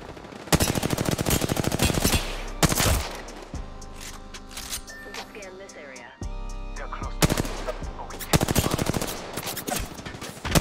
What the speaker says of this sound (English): Who the hell is shooting the shield?